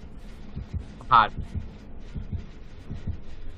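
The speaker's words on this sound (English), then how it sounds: "I hear the heartbeat on you" Killer's heartbeat warning in the video game Dead by Daylight, a low rhythmic thumping pulse repeating steadily under a player's talk, with a brief brighter sound effect cutting in partway through.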